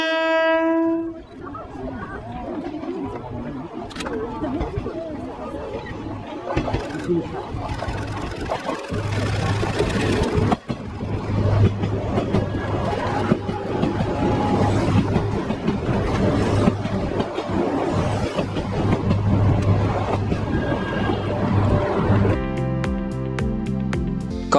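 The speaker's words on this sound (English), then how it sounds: "485 series Tsubasa and E3 series Tsubasa running in parallel" A 485 series Tsubasa and an E3 series Tsubasa train running side by side on parallel tracks, a steady rail rumble with rhythmic clatter, loud and continuous, with brief horn-like tones at the start and near the end.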